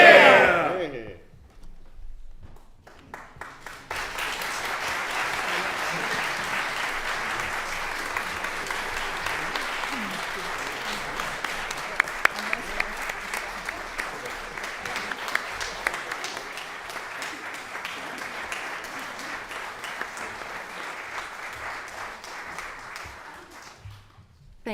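After a brief spoken moment, an audience at a New South Wales Parliament celebration breaks into long, sustained applause that carries on steadily for about twenty seconds before tapering off.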